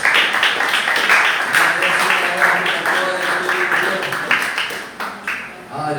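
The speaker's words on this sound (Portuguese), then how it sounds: "Uma salva de palmas bem bonita para o Senhor," Church congregation clapping in praise, a sustained, rhythmic round of applause with voices and some music layered over it, tapering off toward the end.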